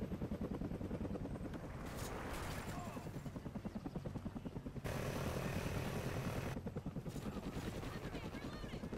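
Helicopter flying in Call of Duty Ghosts, its rotor a loud rapid chopping pulse that runs throughout, with bursts of gunfire and game noise on top and brief spoken callouts.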